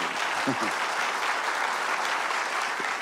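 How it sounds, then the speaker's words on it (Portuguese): A church congregation at a Legacy gathering breaks into steady applause, a continuous crackling wash of many hands at moderate distance, with a faint voice briefly surfacing early on. "Ajuda os irmãos a aplaudir ali na esquerda."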